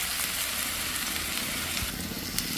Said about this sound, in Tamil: ஓகே இங்கி உள்ளி எல்லாம் வதங்கி வந்துட்டு